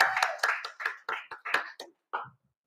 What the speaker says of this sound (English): so let's give Morgan a round of applause.